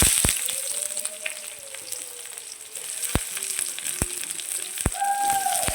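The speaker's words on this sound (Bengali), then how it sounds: "রসুন কুচি কাঁচা লঙ্কা একটু ভাজা ভাজা হয়ে গেলে" Chopped garlic and green chillies fry in hot oil, a steady sizzle running throughout with a few sharp utensil clicks and scrapes near the end.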